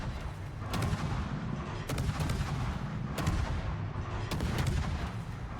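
Naval guns on the Z-52 destroyer fire armour-piercing shells in World of Warships, four heavy booming salvos spaced about a second apart over a steady low rumble of engine and sea, with no talking.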